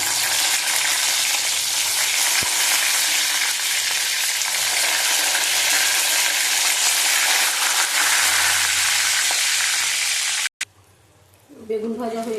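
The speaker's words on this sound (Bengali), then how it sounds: "বেগুন ভাজা হয়ে গেছে, তুলে নিলাম।" Eggplant slices fry in hot oil in a home kitchen pan, giving a loud, steady sizzle that runs unbroken for about ten seconds before cutting off abruptly, followed by a brief quieter stretch with a voice speaking.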